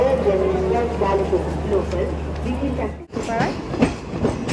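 A train passing near a roadside, its rumble and rhythmic wagon clatter running steadily under a person speaking nearby, close and fairly loud.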